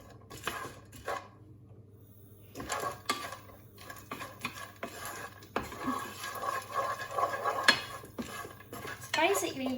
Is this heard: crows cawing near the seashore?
no